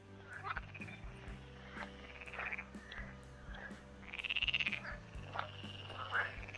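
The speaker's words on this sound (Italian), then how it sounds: "Sentite le rane?" Frogs croak repeatedly beside old river locks along the Adda between Paderno d'Adda and Cassano d'Adda, a chorus of rhythmic calls, some close and loud, with a few longer trilling bursts, no talk.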